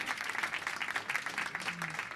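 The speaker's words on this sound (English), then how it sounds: "Give them a round of applause" Audience at a film event applauding the writer and director, a soft, distant patter of many hands clapping in an even wash that carries on steadily.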